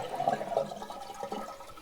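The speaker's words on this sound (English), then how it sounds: "let's go ahead and flush the toilet" A household toilet flushes, water rushing and gurgling through the bowl in a steady swirl that holds close and fairly loud for the whole short stretch, with no voices.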